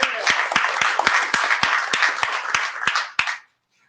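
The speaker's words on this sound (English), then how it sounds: "Can we get a round of applause for the long-suffering authors and editors of those docs?" Audience at an IETF working group meeting applauding the authors and editors of documents, a roomful of hands clapping in a brisk, fairly even burst with a few sharp claps standing out, stopping abruptly after about three and a half seconds.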